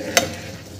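A spoon scrapes once through tomato chutney in a pan, a short sharp clink over a faint simmering bubble, with no talking.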